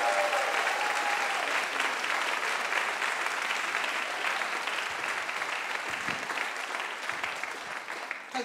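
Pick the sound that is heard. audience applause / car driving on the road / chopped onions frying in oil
audience applause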